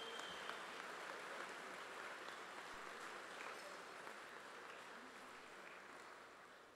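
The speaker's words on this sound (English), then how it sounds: "I think we should give Al a round of applause" Sustained audience applause at a charity gala, a steady dense wash of clapping throughout that stays fairly faint and distant, with no voices over it.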